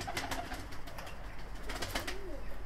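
Several low pigeon coos roll on from Altuni birds of the Miro line inside a coop, close and moderately loud, with a few short wing or foot rustles in between and no one speaking.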